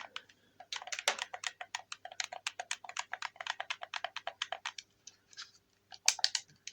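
Game controller triggers, bumpers and face buttons pressed in quick succession, a close, crisp run of dense plastic clicks in an otherwise quiet room, with a brief louder burst near the end.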